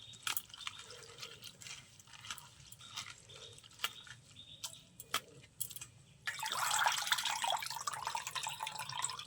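Flattened rice (chira) being rinsed in a basket under running water, with a quiet trickle and scattered drips that swell into a louder, steady splashing gush partway through.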